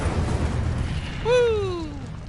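Incendio fire spell cast in the Hogwarts Legacy game: a swelling whoosh with a falling, whistling tone that fades over about a second, over a steady game ambience.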